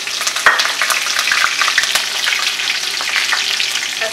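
Peppercorns, cloves, green chili and curry leaves sputter and crackle in hot oil with a steady, dense sizzle and occasional sharp pops, close and fairly loud with no talking.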